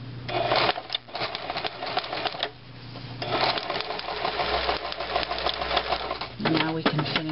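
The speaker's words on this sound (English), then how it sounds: "we're going to tighten that up right there by sewing about an eighth of an inch" A sewing machine stitches a seam about an eighth of an inch in, joining the top of a cushion cover to its boxing, running in steady rapid bursts with short pauses, and speech is heard between the runs.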